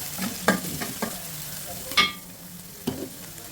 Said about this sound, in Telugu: ఇదిగోండి నూనెలో వేసి ఫస్ట్ తర్వాత ఉల్లిపాయలు వేసాను